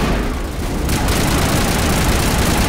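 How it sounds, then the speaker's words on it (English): A machine gun in Mass Effect firing a continuous loud burst of rapid, dense rattling shots that holds steady throughout without letup. "That machine gun is quite good."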